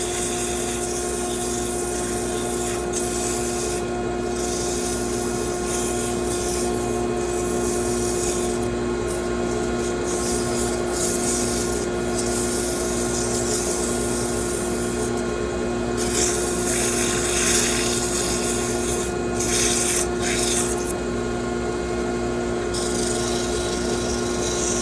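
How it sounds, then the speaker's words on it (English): Continuous abrasive rubbing as a wooden pepper mill is sanded on a spinning lathe, over the machine's steady hum, with a rough scratchy texture that surges and eases over a long stretch. "Nothing really different when you're sanding that, just make sure you sand it thoroughly."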